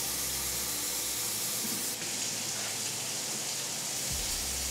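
Hot water runs steadily into a measuring cup at a kitchen counter, a continuous close hiss and splash that shifts slightly partway through and ends with a brief low gurgle.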